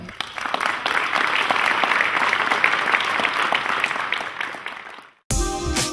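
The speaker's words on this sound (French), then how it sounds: "Vous pouvez vous applaudir." Exhibitors at an arts and crafts fair give themselves a round of applause, dense, even clapping that holds steady for about five seconds and then stops before an unrelated sound begins.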